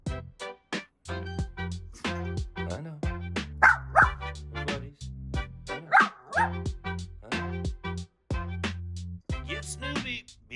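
A dog barks and yips repeatedly in quick bursts throughout, close and loud, with harmonic whining tones, in a home where an HO model train layout is being built.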